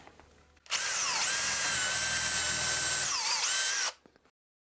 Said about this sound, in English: I'll use a Forstner bit to drill that out.